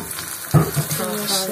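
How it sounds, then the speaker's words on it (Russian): Eggs frying in a pan in a home kitchen, a steady sizzle that swells suddenly partway through, with a person speaking briefly over it. "Катя с утра пораньше встала и завтрак делает. Яичницу нам жарит."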